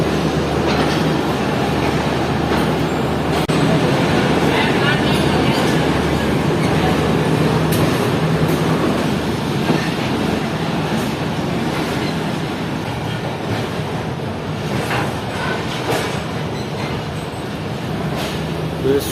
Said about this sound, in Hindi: हमारी ट्रेन ने सूरज निकलने से पहले ही डिपार्ट कर लिया है लाहौर जंक्शन रेलवे स्टेशन से